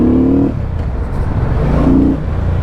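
A Benda Napoleonbob 500 motorcycle's engine sounds close and loud, with deep, throaty revs that rise and drop, settling into a rumbling idle between blips.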